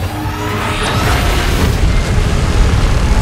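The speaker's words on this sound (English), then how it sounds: "Is it gonna fire a beam at us?" Godzilla firing a beam in PUBG, a loud, sustained roaring boom with a rumbling, explosive body that holds and slightly swells over a few seconds, close and overpowering.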